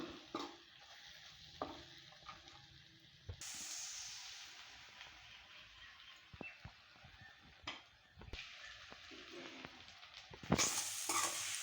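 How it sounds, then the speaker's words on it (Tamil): Brinjal cooked with turmeric, chili powder and a ground dal masala, sautéed in a pan: a steady soft sizzle with intermittent scraping stirs and a sharper hiss near the end, close and quiet, no talking. "கத்திரிக்காயில் எல்லா பக்கமும் மிஸ் ஆகிற மாதிரி நல்லா வந்து ஒரு முப்பது செகண்டு போல் வதக்கி விட்டுக்கோங்க"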